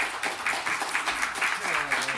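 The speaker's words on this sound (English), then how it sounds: "Let's give him a round of applause." An audience at a circular economy symposium claps in a brief, fairly even round of applause, moderately loud with no clear talk over it.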